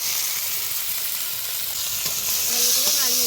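Green beans and potatoes seasoned with turmeric and salt frying in a wok, a continuous sizzle with scraping stirs, and the spatula clinks and rings toward the end.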